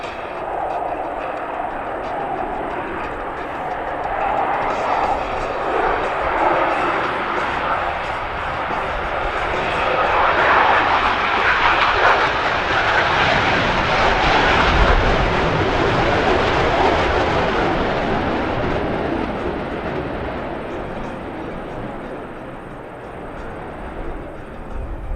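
Twin GE F404 turbofan engines of a US Navy F-18 Hornet at an air show spool up to full power, a loud broad roar that builds and swells to a peak midway before easing, with a voice speaking over it.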